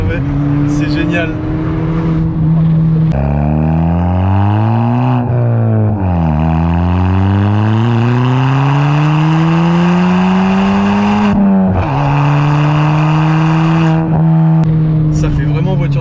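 A Ford Fiesta ST Mk7.5 set up like a rally car revs loudly while driving, its engine note rising and falling through several gear changes over about sixteen seconds, with people talking inside the car throughout.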